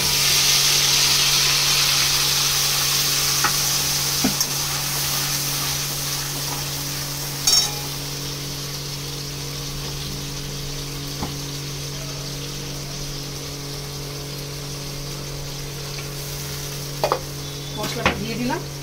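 Spice paste hits a hot pan and sizzles with a continuous bright hiss while cooking a veg paneer dish. The sizzle is steady and close, broken by a few sharp clinks of a utensil against the pan.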